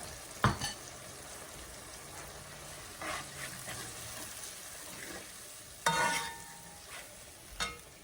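A turmeric, chili and garlic spice paste is stirred with water in a pot, giving a few distinct scraping clacks of the spoon among softer wet stirring, close and moderately loud.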